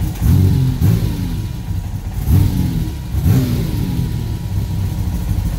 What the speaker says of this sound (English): Give it a little bit of a couple little revs.